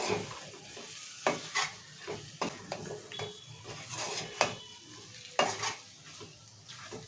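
A spatula stirs mutton fry with chopped coriander in a pan, making soft irregular scrapes and clinks of metal on metal over a quiet, low sizzle, close by, with no voices.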